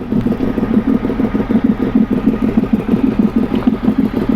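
A Ducati 800 motorcycle engine idles close by with a loud, throbbing exhaust pulse, steady and rhythmic without strong revs.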